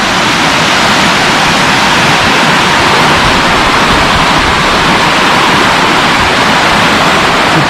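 A swollen stream rushes loudly and continuously, a dense, close roar of flowing water with no pauses.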